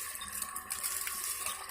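Water rushes steadily from a Kirloskar Jalraj Ultra1 pump, a close, continuous splashing flow with no voices.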